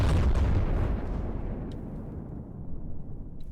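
Heavy ship guns fire in From the Depths, a loud booming blast with a long rumbling decay that fades away, followed by a faint crackle.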